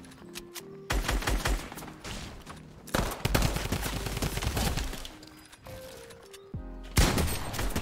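Bursts of loud, close automatic gunfire in an online shooter game, arriving in several sustained volleys separated by brief lulls.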